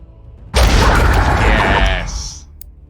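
A bomb goes off in the video game Vagrus, a sudden loud, broad blast that rumbles and crackles for about a second and a half before fading into a short hissy tail.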